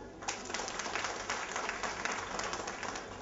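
An audience at a Malaysian Indian political gathering claps for a guest, a dense patter of many hands that runs steadily at moderate volume without pause.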